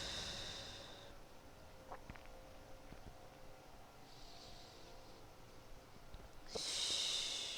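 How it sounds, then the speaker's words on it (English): Slow, steady breathing during a beginner yoga twist, a soft airy exhale at the start and a louder breath near the end, close and quiet with no talking. "Deep, steady breaths."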